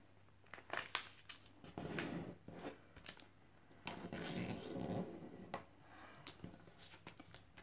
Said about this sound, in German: also einfach zweimal mit den Fingernägeln drüber